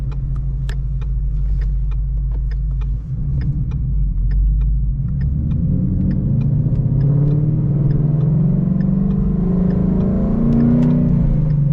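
2015 Ford Mustang pulling out and driving off, a close, loud engine drone that rises in pitch as it accelerates, with steady road rumble and occasional light ticks.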